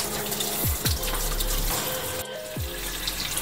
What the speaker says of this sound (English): Please remember to turn off the tap.